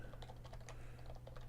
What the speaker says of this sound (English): I'm not all that good with this touch typing stuff